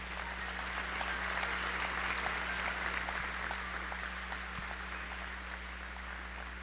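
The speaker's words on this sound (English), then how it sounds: "Please give him a round of applause." Steady crowd applause fills a sports venue during a pregame ceremony honoring St. FX and the Antigonish community, dense and sustained throughout with a constant low hum underneath.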